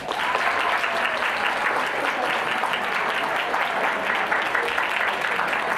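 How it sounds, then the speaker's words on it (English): A crowd at an emcee-hosted applause contest claps for a team, a dense, sustained roar of applause at steady loudness throughout, with a faint voice briefly audible within it. "a round of applause"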